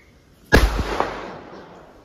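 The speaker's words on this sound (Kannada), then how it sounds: "ಮಾಲ ಪಟಾಕಿ ಅಲ್ಬಗ" A string of firecrackers bursting outdoors: one sharp loud bang, then a couple of quick pops, fading into a ringing decay.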